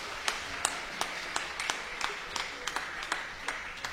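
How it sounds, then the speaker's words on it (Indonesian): Sparse applause for a poet at an Indonesian music-and-poetry performance: scattered, fairly faint claps at an irregular rhythm, as if only a few hands join in. "Tepuk tangan untuk beliau."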